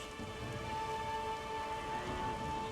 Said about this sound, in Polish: No i od razu zaczęło prać piorunami, jakby sam nagle far przypłynął. Do tej pory nie przestaje.